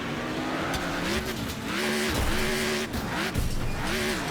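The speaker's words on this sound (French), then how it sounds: "Oh, oh, ça patine, ça dérape." Tires skid and squeal in the racing game Next Car Game, where a V8 American car slides around the track. Several wavering squeals run over a steady, loud engine roar with no talking.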